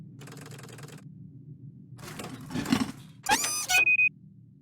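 Mechanical clicks and whirs as a gear is fitted to the engine of a town model in a point-and-click adventure game, ending in a sharp metallic clunk and a brief high whine, with no talk.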